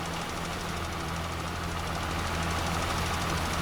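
Tractor engine in the video game Farming Simulator 22, a steady low idle-like rumble with a knocking pulse, loud and continuous throughout with no talk.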